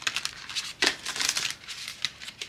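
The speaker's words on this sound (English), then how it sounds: "going to shuffle a couple of times." Tarot cards are shuffled on a table in a run of dry, papery riffling and flapping bursts, close and fairly loud, with no voices.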